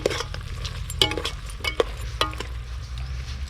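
Frog meat stir-fried in a pan sizzles steadily at close range, with several sharp scraping and clattering strokes of a utensil against the pan, and no voices.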